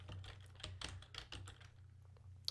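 Rapid keystrokes on a computer keyboard while code is entered, a quiet, steady run of close clicks and taps with brief pauses and a sharper tap at the end, no voices.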